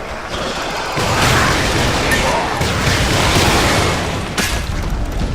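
Heavy weapon fire and explosions in the Warhammer 40,000 Eternal Crusade video game, loud booming bursts and crackling blasts across a sustained noisy battle, with a sharp impact near the end.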